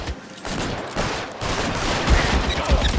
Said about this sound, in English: Every single time he reloads, I'm gonna shoot him in the head.